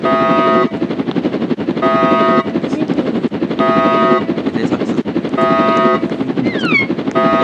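A video game helicopter used in a jail escape gives a loud, continuous rotor and engine drone, with repeating tonal bursts and short game effects layered on top and no talking.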